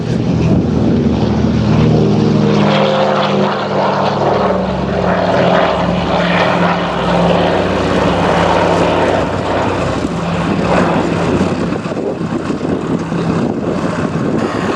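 Douglas DC-3 Dakota, also known as the C-47, runs its propeller engines in a loud, steady drone with a deep, throbbing low hum that holds without a break throughout. No one speaks.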